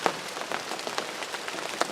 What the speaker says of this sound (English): it's raining. Pretty good rain now.